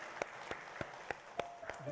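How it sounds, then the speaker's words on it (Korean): Sparse, evenly spaced claps ring out about three per second at the close of a Sunday morning church service, faint and a little distant, over low background murmur. "영광의 박수 함께 드리시고 마치겠습니다."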